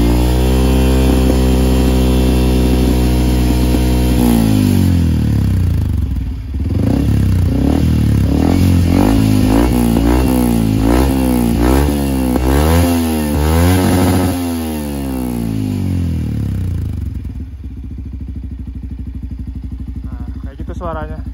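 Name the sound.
motorcycle with WR aftermarket exhaust revving at high RPM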